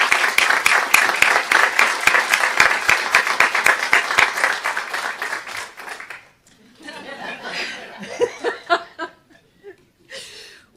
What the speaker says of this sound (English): would love to have a round of applause for Dr. Smith